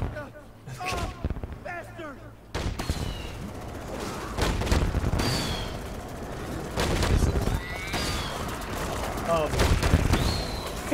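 Gunfire in the video game Dead Rising 3, bursts of shots and a rapid fusillade mixed with horse neighs and game effects, with people talking over the action.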